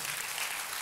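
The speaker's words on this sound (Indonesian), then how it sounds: "Yang percaya tepuk tangannya yang paling meriah." A church congregation claps in a brief, dense burst of applause filling the room, no voices standing out.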